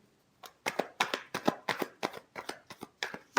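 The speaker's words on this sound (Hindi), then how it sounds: "Last shuffle." A deck of tarot cards is shuffled by hand in about a dozen quick, crisp riffling bursts, close and clear with no talk.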